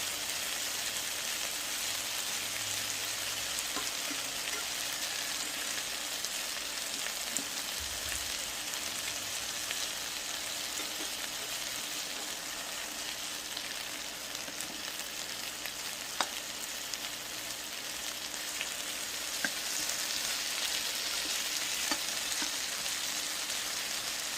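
Sausage, shrimp and potatoes fry in a pan with a steady, close sizzle that crackles and pops throughout, with a few faint clinks and no voices.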